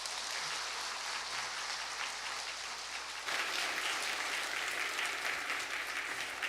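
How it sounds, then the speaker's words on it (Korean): Sustained applause from a church congregation at a Sunday worship service, a dense steady wash of many hands clapping that swells a little louder partway through, with no talking over it. "박수하겠습니다."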